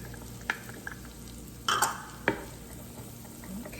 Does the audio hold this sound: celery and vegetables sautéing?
yes